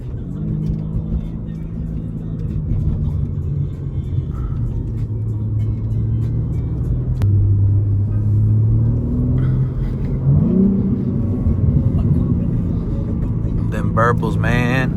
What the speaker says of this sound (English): Them burbles sound good.